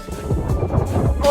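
A snow leopard's low, rough growl rumbles briefly and steadily, with a deep throaty texture and a short rising note near the end.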